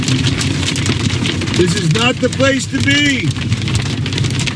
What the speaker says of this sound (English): it just started hailing like you read about